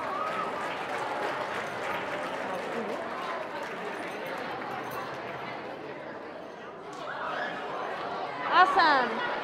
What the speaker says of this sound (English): Let's give another round of applause to our winners.